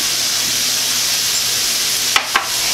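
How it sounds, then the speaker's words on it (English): Olives are stirred into a sizzling pan while cooking Tuscan chicken, a loud continuous fry hiss with two quick scraping strokes near the end; no talking. "Give that a stir, since of course olives really don't need to cook."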